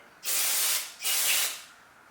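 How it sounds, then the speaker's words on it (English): Two short, close bursts of aerosol carburetor cleaner hiss out one after the other, each about half a second long, with quiet between them. "I think it's like a gum out or Chem Dip or some sort of carb clean"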